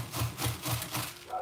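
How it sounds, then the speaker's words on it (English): Vegetables being grated by hand for homemade dumplings, heard as close, rhythmic rasping strokes repeating about every quarter second, roughly five passes in a steady back-and-forth pattern. "All we're going to do is grate it."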